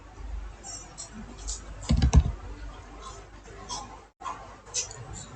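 Typing on a computer keyboard while working in ArcGIS software, heard as scattered soft key clicks and a brief burst of faster clattering, close and quiet under a low background hum.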